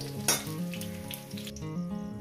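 Jackfruit sizzling and frying in hot oil in a pan for a curry, a steady loud crackle with bursts of spatter as pieces are turned, no voices.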